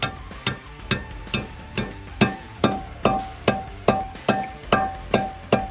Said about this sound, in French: Donc douille de 11. Tu tapes tout doucement et dès que tu entends un changement de sonorité, eh ben c'est que c'est bon